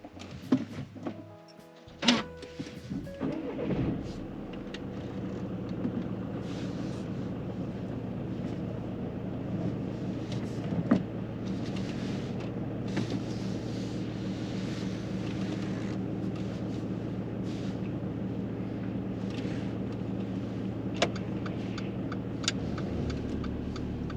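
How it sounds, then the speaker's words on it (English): A car engine starts during a driving test, with a few sharp clunks and a turn of the key at first, then a steady low idle and hum as the car moves off, with no talk. "you can start the engine and we'll move off from here"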